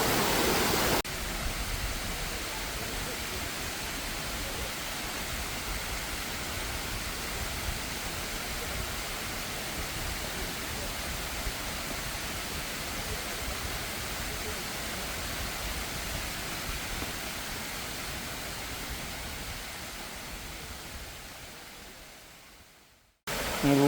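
A mountain torrent holding wild brown trout rushes steadily in a continuous broadband roar, close and unbroken for the whole stretch before cutting off abruptly at the end.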